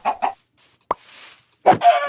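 Minecraft chickens clucking in short bursts, a couple of quick clucks at the start, a sharp click mid-way, then a louder, longer clucking call at the end, close and clear with no talk.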